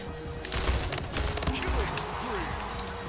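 Rapid gunfire from the BR rifle in the arena shooter Splitgate, a loud volley of shots that starts sharply and continues under game effects, with a voice speaking over it.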